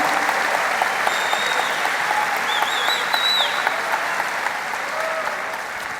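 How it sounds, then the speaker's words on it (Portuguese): A church congregation applauds in sustained, even clapping that fills the room, with a few faint voices and whistles rising over the steady roar. "Abençoe a Jesus com um aplauso."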